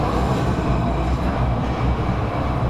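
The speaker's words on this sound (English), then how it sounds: "Okay, it was a train." A train passes behind the recording spot in a busy urban setting, giving a loud, steady rolling rumble with a rail clatter that fills the whole moment with no voices.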